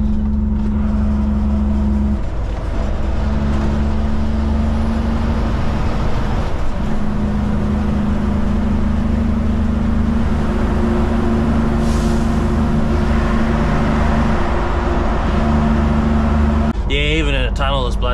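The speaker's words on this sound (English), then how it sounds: "Bloody Jake brakes, pretty disappointing" A truck's Jake brake drones in a steady, loud, low harmonic rumble inside a long motorway tunnel on the way to Sydney, shifting in pitch a few times as the engine braking works, heard from the cab.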